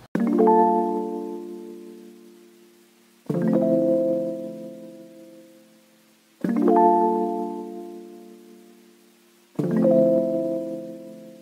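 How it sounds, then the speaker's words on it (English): Rhodes electric piano loop from a free sample pack, four sustained chords struck about every three seconds, each swelling in and slowly decaying with a soft mellow tone, alone and close. "So that Rhodes Loop sounds like this"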